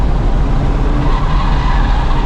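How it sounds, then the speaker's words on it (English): Honda Civic Type R FL5 on Michelin Pilot Sport Cup 2 tyres spinning its wheels over humps on a race track, a loud continuous engine roar with tyre noise. "Wheel spin over the humps."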